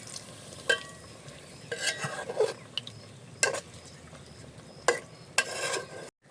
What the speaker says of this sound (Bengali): একদম অল্প পরিমাণে জল দিয়ে দেবো বন্ধুরা।